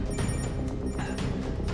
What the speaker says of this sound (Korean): 핸드폰 소리가 작게 들려왔고